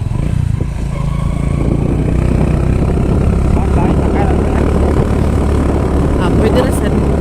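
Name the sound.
motorcycle riding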